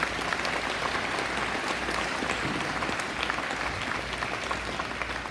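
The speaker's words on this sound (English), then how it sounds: "Let's give her and the award recipients a round of applause." A large audience at a college graduation ceremony, North Arkansas College's 2019 commencement, claps in steady, dense applause that holds at an even level throughout, with no speech over it.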